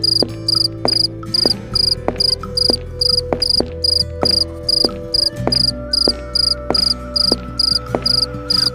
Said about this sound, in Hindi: केवल झींगुरों की आवाज सुनाई दे रही थी।